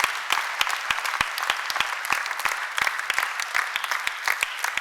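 A church congregation applauding, with dense, steady clapping from many hands at moderate distance and little speech.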